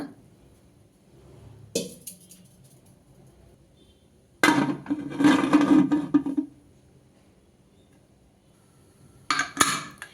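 Metal clatters against a pressure cooker in three separate bursts, the middle one longest, as the lid is set and shifted into place.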